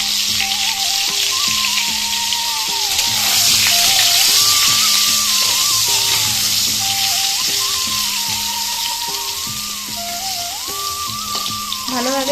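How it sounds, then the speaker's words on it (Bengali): Potatoes seasoned with salt and turmeric fry in hot oil, giving a steady hiss and sizzle that continues throughout under a melodic background tune. "ভালোভাবে লাল লাল করে ভেজে নেব।"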